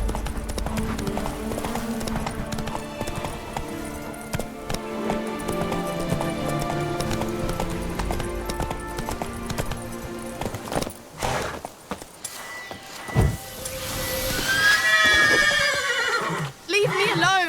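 Roach, a horse in The Witcher 3: Blood and Wine, gallops with steady clip-clop hoofbeats over game music, then gives a loud, close whinny near the end.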